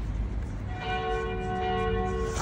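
A church bell rings in a German town, its sustained metallic tone rising over steady outdoor background noise.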